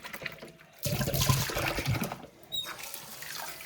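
Water bottles are washed in a kitchen sink of water, with splashing and sloshing bursts of liquid, close by, broken by brief pauses and no talking.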